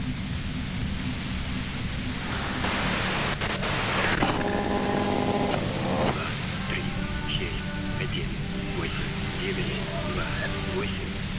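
Radio white-noise static hisses steadily throughout a scene in the video game Disco Elysium, with a brief louder burst and faint tonal traces beneath the broadband hiss.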